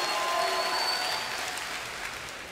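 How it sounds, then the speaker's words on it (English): A large BlizzCon 2011 esports crowd at a StarCraft II match cheers and claps together, a dense wash of applause that starts loud and slowly fades over a few seconds. "And if you would like the player here on the left, Naniwa from Complexity, give a cheer."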